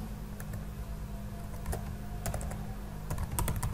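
Keys clack on a computer keyboard while a navigation menu is entered in Android Studio, a close, quiet run of irregular taps over a steady low hum.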